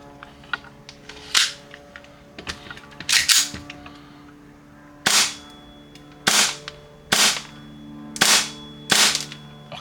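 Gunshots from a gun fitted with an ESHOOTER Flare Cube BT tracer unit, about seven sharp, loud cracks spaced a second or so apart, close by and standing alone with almost no talk.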